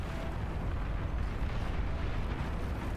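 Vanguard plasma cannons and explosions in the real-time strategy game BAR, a massive tier 3 battle, form a dense, continuous roaring rumble of overlapping blasts with no talking.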